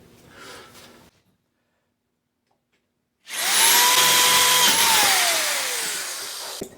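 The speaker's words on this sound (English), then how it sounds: "Let's drill this out." After a short silence, a power drill whines loudly and steadily up close, its pitch sagging slightly as it bites into rusty bicycle frame metal.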